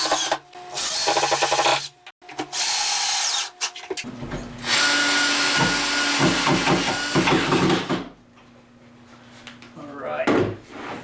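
A plywood shop cabinet is clamped and screwed together: short bursts of a power drill driving screws, clunks and knocks of clamps and panels, with talk between the tool noise.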